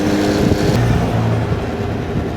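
Steady loud engine drone with heavy wind rumble, as from riding on a motorcycle, continuous throughout with no talking.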